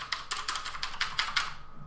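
A Corsair K70 mechanical keyboard with Cherry MX Blue switches is typed on steadily, producing a rapid, even run of sharp, loud clicky keystrokes heard alone.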